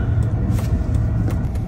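A steady, loud road rumble from inside a car driving on a highway, with constant low engine and tire noise and no pauses.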